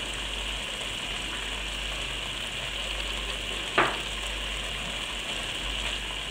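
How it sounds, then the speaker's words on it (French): Pork with ginger, finely chopped garlic and curry fries in a pan, a steady dense hiss like rain, with one sharp scrape of a stirring utensil midway, close and constant, without talking. "je tourne et je vais faire cuire environ 2 à 3 minutes le temps que tout s'imprègne bien"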